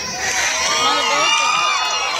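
An audience at an outdoor festival skit shouting and cheering loudly in a sustained burst, with children's high voices prominent in the crowd noise.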